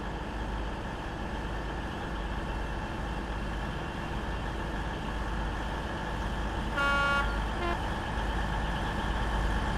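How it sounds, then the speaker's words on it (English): A steady diesel train drone in a train simulator game gives way to a short, fairly thin horn blast late on, with the engine rumble continuing underneath. "Horn sounds weak too."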